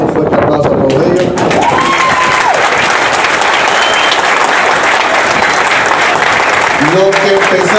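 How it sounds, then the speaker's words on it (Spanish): A large crowd at a salsa festival applauds loudly and continuously, dense clapping and crowd noise filling the whole stretch, with a voice and tonal sounds rising above it at moments. "Pido un fuerte aplauso a todos ellos"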